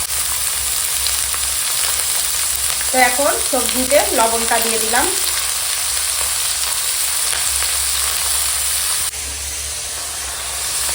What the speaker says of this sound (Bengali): সবজিটা ভেজে নেব এই তেলের উপর দিয়ে